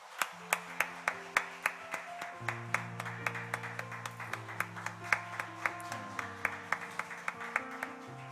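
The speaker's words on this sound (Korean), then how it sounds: "우리 박수로 한번 격려 한번 하시겠습니다" During a Korean Sunday church service, hands clap in a slow, regular rhythm, one crisp beat after another, over soft sustained organ or keyboard chords.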